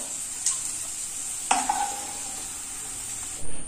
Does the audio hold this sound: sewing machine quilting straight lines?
no